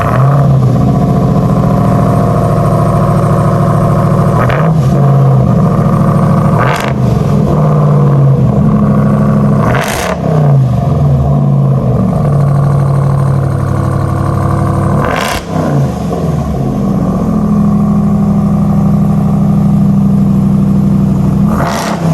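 Engine of a 2023 Ram 1500 TRX 4x4 pickup, loud and close with a steady idle, broken by several sharp revs that rise and fall, at about 4, 7, 10 and 15 seconds.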